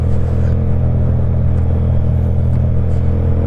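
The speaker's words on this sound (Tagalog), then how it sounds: "Ngayon hindi na. Huni na ng mga sasakyan mga lodi." Steady, loud engine rumble and road noise from vehicles on a night ride along a mountain road, the droning whir continuous and close throughout without speech.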